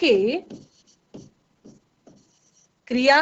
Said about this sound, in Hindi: चलिए फटाफट लिखते हैं